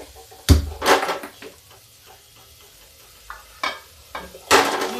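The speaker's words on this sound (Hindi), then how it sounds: "ये मसाले मेरे देखिए भून गए" Spices roasting in oil in a kadhai for dry lobia sabji, heard as sharp stirring scrapes and sizzling bursts, a few loud strokes spaced apart with quiet gaps, no talking.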